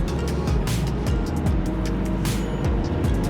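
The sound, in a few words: car with 1.2 litre engine struggling on mountain road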